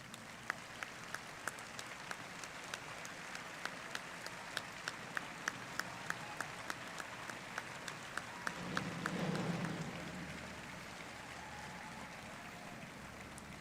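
Sparse, distant applause at a high school commencement ceremony, scattered individual claps at a steady pace, faint in a large space, briefly swelling with a low murmur near the end.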